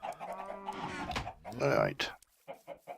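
Chickens cluck in the Minecraft Magic Farm 2 modpack video game, short fowl clucks popping up between and under a man's casual speech, fairly close and moderately loud.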